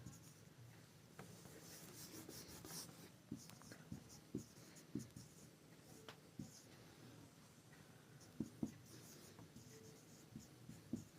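Pen or marker scratching out a maths equation by hand during a Class 10 algebra lesson on the substitution method, with quiet irregular strokes and taps over a faint room hum and no talk.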